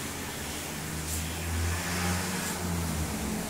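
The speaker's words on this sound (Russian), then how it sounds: "Вот скутеры, так приятно смотреть." Scooters passing along a seaside promenade in Bečići, Montenegro, heard from a balcony, with a steady low engine drone that swells gently in the middle as they ride by, moderately distant and with no talking.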